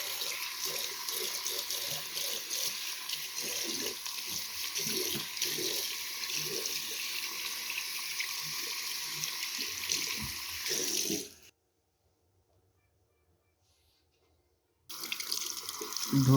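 Water runs hard from a tap while dirt is washed off, a loud steady splashing gush that cuts off abruptly into silence for a few seconds, then surges back on.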